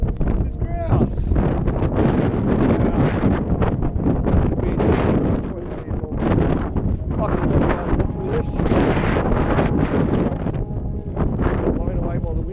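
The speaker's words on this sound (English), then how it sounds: "Blown away by the wind." Strong wind roars over an exposed mountain lookout in the Blue Mountains, loud constant buffeting against the microphone, with people talking through it.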